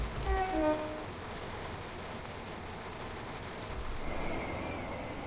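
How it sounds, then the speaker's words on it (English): In a train simulator video game, a train horn sounds briefly at the start, then a steady low rumble of a train rolls by, with faint horn-like tones returning near the end. "Oh, there's a train."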